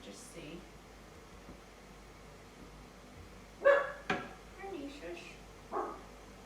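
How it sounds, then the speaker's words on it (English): A dog barks a few times at moderate distance, short sharp yaps spaced out over a quiet indoor background with a faint hum. "So there's lots of new noises for Bernie to bark at."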